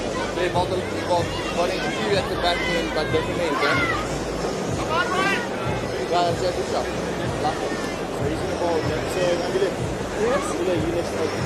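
A cricket stadium crowd grows restless, a steady babble of many voices with scattered whistles and shouts, filling the background under continuous commentary.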